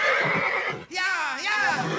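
A loud, close horse whinny in an animated series rises and wavers for about a second, following a voice speaking just before it.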